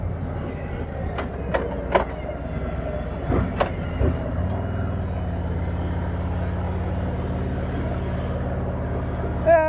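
A Harley-Davidson Street Glide motorcycle on the move gives a steady, close low engine drone with road and wind noise, broken by a few sharp clicks and knocks in the first few seconds.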